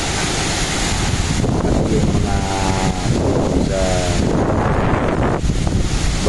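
Strong typhoon wind from Typhoon Uwan roars steadily and loudly throughout, a dense continuous rush with gusting swells and no pauses.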